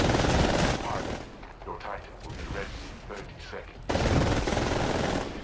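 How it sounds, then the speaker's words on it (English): Automatic weapons fire in Titanfall rattles in dense bursts, loud at the start, dipping to scattered shots mid-clip, then surging back to a heavy sustained spray amid other game sounds. "No, I'm getting shot! Who's shooting at me?"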